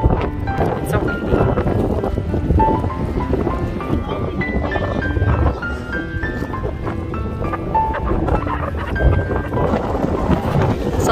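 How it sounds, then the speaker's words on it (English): Strong wind gusts by a lighthouse on a coast, rushing loudly and continuously across the microphone as people talk over it. "if you can hear the wind, because I look out. It's so windy."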